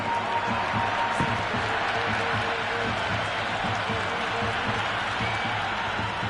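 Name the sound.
stadium crowd applauding in a cricket video game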